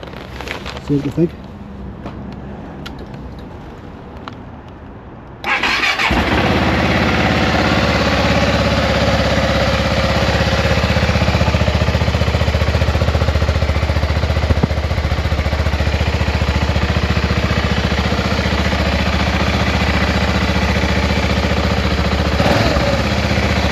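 A BMW F650GS motorcycle with a twin pipe starts after a few seconds of quiet handling noise, then settles into a loud, steady idle that runs close by until the end, with speech heard under the engine.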